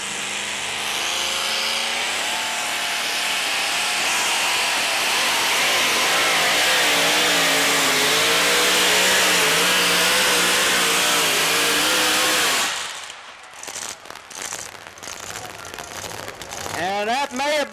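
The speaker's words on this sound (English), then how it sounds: "with a Keith Black Hemi engine in it, 541 cubic. Wayne Rouse, Dublin, Ohio, 1986 Ram 50 Dodge" A 1986 Dodge Ram 50 two-wheel-drive race truck powered by a 541 cubic inch Keith Black Hemi screams at full throttle in a loud sustained roar on a drag strip, then cuts off abruptly into crowd noise and a brief returning rev.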